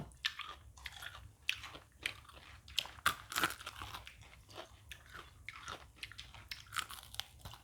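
Crispy fried chicken wings are crunched and chewed up close, with a steady run of sharp, crackling bites and chewing noises and no talking.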